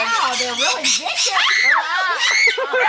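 Shrill, frantic screeching and squawking from a parakeet and two parrots fighting, harsh calls overlapping loudly at close range, mixed with what may be a human shriek.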